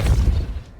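Capulso spell impact in Hogwarts Legacy, a single deep, heavy boom that thuds up front and fades out over less than a second.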